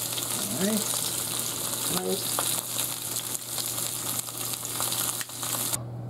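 A steak sizzling loudly and steadily in a frying pan close up, the continuous crackle running throughout while a voice briefly speaks over it.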